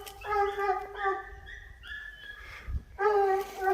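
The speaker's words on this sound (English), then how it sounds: "Oh, look, the neighbor dogs are out again." Neighbouring dogs whimper and yip in a series of high, drawn-out whines with a brief gap midway, fairly close and clear, over faint outdoor background.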